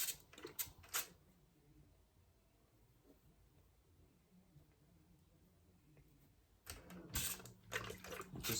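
A sewing machine stitches to tack down the points of a patchwork star potholder, in short bursts at the start and again near the end with a quiet pause between.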